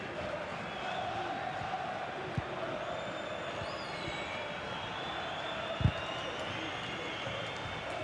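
A football video game stadium crowd roars in a steady, distant wash of cheering during a Benfica versus Arouca match, with a couple of brief sharp knocks.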